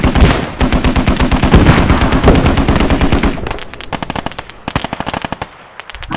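Rapid automatic gunfire from the infantry shooter Squad, loud and close in dense bursts for about three seconds, then sparser sharp shots and short volleys continuing in the background.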